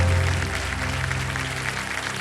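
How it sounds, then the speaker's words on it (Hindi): Studio audience applauds on the Kaun Banega Crorepati game show set, a brief steady burst of clapping layered over music. "तालियां बज जाए जोरदार"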